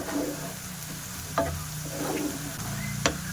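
Spices sizzle steadily in hot oil, including turmeric powder, with a few clinks and scrapes of a spoon stirring the pan at irregular intervals.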